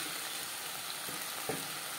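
Fried fish pieces go into a simmering eggplant curry on low heat: a faint, steady sizzle and bubbling runs throughout, with one soft thud as a piece drops in near the end.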